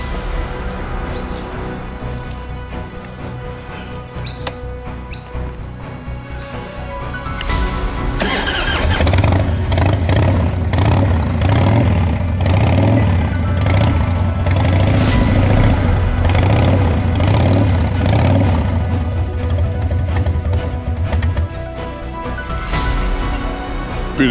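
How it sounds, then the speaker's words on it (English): A Harley-Davidson Evo Heritage 1340 motorcycle engine cranks and catches, then settles into a loud, steady, deep running rumble close by, with no talking. "Let me tell you, the bike runs beautifully."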